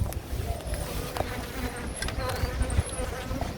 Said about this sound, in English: Sure, these bees are active.